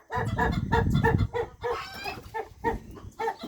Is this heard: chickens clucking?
yes